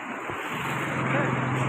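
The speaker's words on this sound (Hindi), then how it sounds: "ये देखिए कितना तेज पानी का बहाव है दोस्तों" Fast-flowing water of the Tons River near Prayagraj rushes as a broad, steady roar, mixed with wind buffeting and the hum of a passing motorcycle, while someone talks over it.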